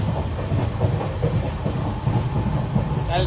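Steady rumble and rhythmic clickety-clack heard from inside the new Rameswaram–Tambaram passenger train as it moves along the line, a constant, fairly loud wash with no talking.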